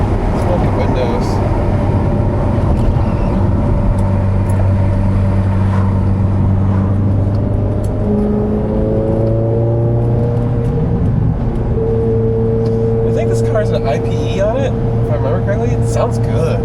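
A Ferrari engine runs steadily while driving, a deep, meaty tone that shifts pitch as the car changes speed and throttle. Someone talks over it almost throughout.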